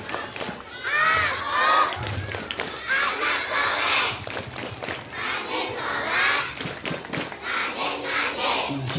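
Children at a Maulid Nabi gathering doing the 'tepuk anak soleh' clapping chant, loud group chanting and shouting with rhythmic claps, a crowd of young voices throughout.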